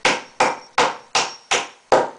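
Hammer strikes driving a nail through a wooden board, six sharp evenly spaced blows in steady rhythm, close and loud with no talking.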